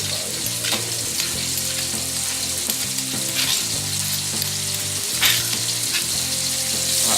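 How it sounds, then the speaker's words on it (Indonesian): Spice paste for red fish seasoning sizzles and fries steadily in hot oil, a loud, continuous crackle with brief stirring scrapes and no talk. "Langsung minyak udah panas, kita masukkan bumbunya."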